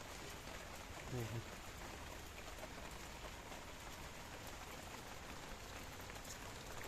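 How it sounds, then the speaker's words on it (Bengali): Heavy rain pours down steadily in a constant patter, with a faint voice briefly heard near the start. "প্রচণ্ড বৃষ্টি পড়ছে"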